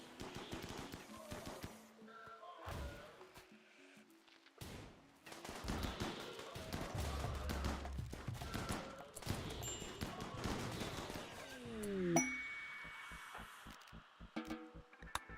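Friendly fire in RimWorld: bursts of in-game gunfire crackle in scattered volleys, dense in the middle and fading toward the end, with game sounds mixed in and no talk over it.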